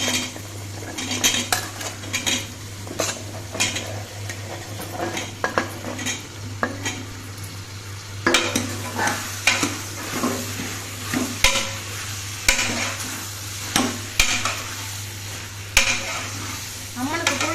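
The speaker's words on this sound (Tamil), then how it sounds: "இப்போ காய் சேர்த்து வதக்கிக்கலாம்." Vegetables sautéed with onion and tomato in a pan for karuvattu kulambu, with repeated spoon scrapes and clinks of utensils against the pan over a soft sizzle and a steady low hum, no voices.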